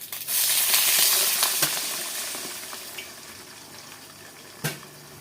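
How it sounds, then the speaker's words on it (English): Water pours into a hot pan of Japanese chicken dumplings with a loud burst of sizzling hiss that gradually settles into steady bubbling, plus a sharp clink near the end. "I'm going to put water in."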